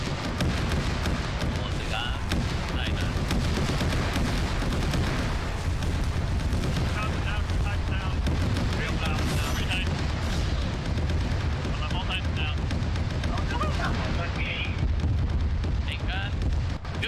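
A capital ship's front main laser cannon firing in a video game amid a chaotic multiplayer battle, heavy booming blasts over continuous roaring action with players talking over it.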